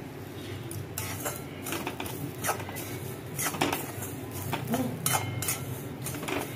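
Semolina and coconut being stirred and roasted in a pan over a low flame, with a steady scraping and clinking of a spoon against the metal under a soft background hiss.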